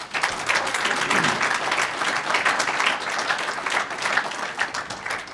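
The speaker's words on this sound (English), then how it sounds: "So let's give them a nice round of applause." Audience at a hall of fame induction ceremony applauding its coaches, steady dense clapping that stays loud and even from start to finish with no voices over it.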